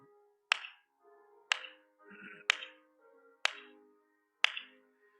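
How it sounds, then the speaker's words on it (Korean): A church congregation at a Wednesday service claps along to a hymn, five crisp, evenly spaced claps about a second apart, with faint music lingering between them. "우리 박수 치면서 찬양하겠습니다."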